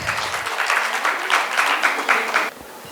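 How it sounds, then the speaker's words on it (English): Audience at an industry presentation applauding to welcome a presenter, a short burst of dense clapping with a rhythmic pulse that stops abruptly after about two and a half seconds. "Can we have a big round of applause for Sir,"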